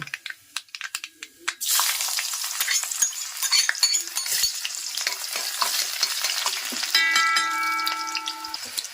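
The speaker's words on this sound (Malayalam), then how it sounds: "അത് നമ്മൾ കടു പൊട്ടിച്ചുകൊണ്ടിരിക്കുകയാണ് കേട്ടോ" Mustard seeds splutter and pop in hot oil for a Kerala fish curry, a dense crackling sizzle that starts suddenly and keeps spitting close by.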